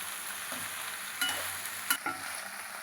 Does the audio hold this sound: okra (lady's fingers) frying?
yes